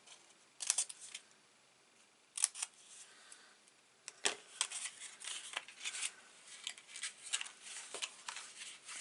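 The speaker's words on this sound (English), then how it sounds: "I'm just going to cut out the rest" Scissors cutting paper at close range, heard as a series of soft, crisp snips and rustles. They come in small clusters with brief pauses between them in a quiet room, with no talking.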